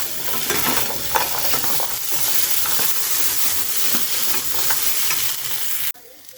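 Chicken frying in a pan while being stirred, constant loud sizzling with scraping utensil strokes and small clinks, close up and without speech, cutting off abruptly near the end.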